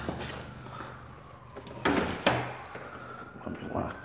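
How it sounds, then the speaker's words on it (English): A house door on a renovated three-bed home is pushed shut and locked, two sharp clunks close together followed by a faint rattle, with low room noise and no talking. "Let me lock the door."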